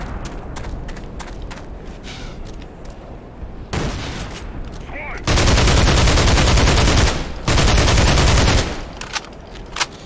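Soldiers fire grenade launchers in Black Mesa: a scattered series of sharp cracks, then two long stretches of loud, dense blasting and rumble, with quieter gaps between.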